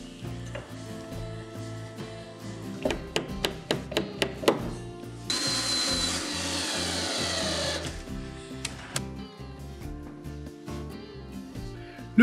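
Timber top plate being screwed down to each joist with a power screwdriver, a run of short sharp bursts followed by one longer steady whirring drive, then quieter clunks, with no talking.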